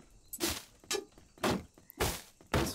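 Objects get smashed and broken apart in the game Dysmantle: about five sharp thunking, crunching impacts land at a steady pace, fairly loud and close.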